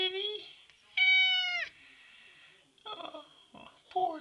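A palomino cat meows in several drawn-out, tonal cries, a long plaintive one followed by a higher, louder wail, then shorter rough mews, heard close and clear in a quiet room.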